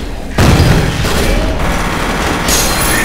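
A grenade explosion and gunfire in F.E.A.R. erupt suddenly as a loud, dense blast and sustained rumble of shooting that stays heavy and constant throughout.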